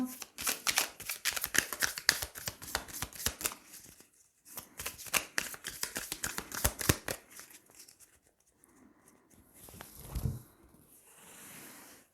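Tarot cards being shuffled and drawn by hand: rapid crisp riffling and flicking in bursts, a short pause, more shuffling, then softer card handling and a few muffled taps, close and clear.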